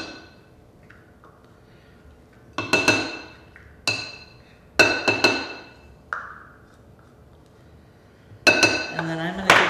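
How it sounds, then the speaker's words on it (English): Whole eggs and sour cream dropped into a bowl of cake mix with vanilla instant pudding, heard as a few sharp clinks and taps of utensils and dishes between quieter stretches, with some speech. "I'm going to toss in 4 whole eggs, a ½ cup of sour cream"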